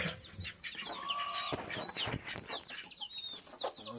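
Hens clucking inside a cage on a poultry farm, a mother hen among them, with repeated short calls and chirps from several birds close by and a steady clatter of farmyard noise.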